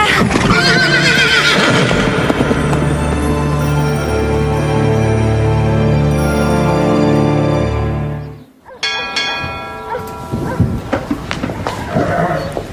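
A loud, drawn-out horse whinny fills the scene, then breaks off into a brief pause before snorting and scuffling noises follow.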